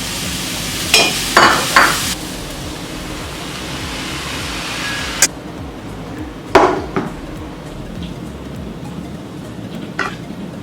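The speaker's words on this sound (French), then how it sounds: "Je vais venir mettre un peu de sauce soja pour que les carottes cuisent dedans en fait." Carrots and chicken cooking in soy sauce in a pan, a constant loud hiss and sizzle with several sharp clinks and scrapes of a utensil against the pan.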